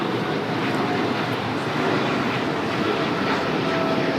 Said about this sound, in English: that was Korean Air cargo, flight 8208, heading to Seoul in the 777 freighter